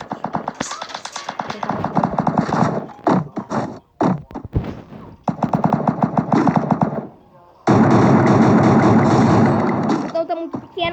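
Rapid gunfire from the mobile battle-royale game Free Fire, loud and repeated in clustered bursts with short gaps, mixed with game sounds and occasional talk.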